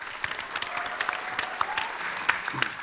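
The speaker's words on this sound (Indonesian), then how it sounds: "boleh tepuk tangannya sekali lagi untuk mereka." An audience at a vocational arts and technology showcase claps steadily, with individual sharp claps standing out over a moderate, even wash of applause.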